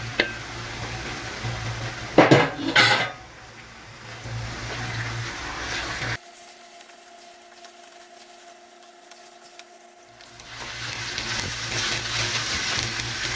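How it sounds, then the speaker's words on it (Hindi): Minced meat, 1200 grams, fries in ghee with garlic in a pot, giving a broad sizzling hiss with stirring and clattering early on, a quieter stretch in the middle, then the sizzle rising again. "अब इसके अंदर हम कीमा डालेंगे।"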